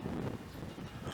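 Strong storm wind buffets the microphone outdoors in a steady, rough roar that fills the whole short moment, with no voices.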